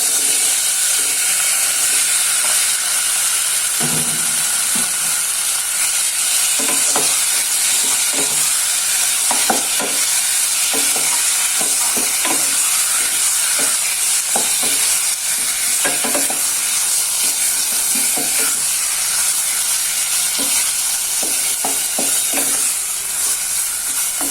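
Chicken pieces fry in a hot pan with a loud, constant hiss and sizzle, while a spatula stirs them with irregular scrapes and clacks throughout, close up.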